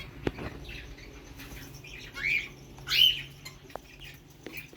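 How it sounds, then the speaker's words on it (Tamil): A small male princess parrot gives a few bright squawking calls in an indoor aviation setting, with two louder bursts standing out over faint background noise and no talk. "இது பின்சஸ் பறவை. அது சவுண்டு கொடுக்குறது நல்லா கிளி பேசுகிற மாதிரி இருக்கும்."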